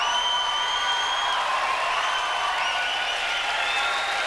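A comedy-show audience in Montreal applauds in an even, sustained wash of clapping that stays at a constant level from start to finish, with a faint tonal hum running underneath.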